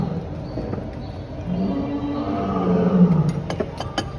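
A low, rumbling big-cat roar from a tiger or lion at Bali Safari's Mara River lodge, rising and swelling over a few seconds nearby amid faint outdoor background, with no talking.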